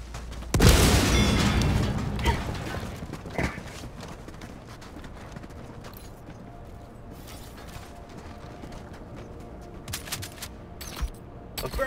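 A grenade explodes in the video game Helldivers 2 with a loud, close boom early on, followed by a long decaying rumble and scattered fainter crackles and thuds.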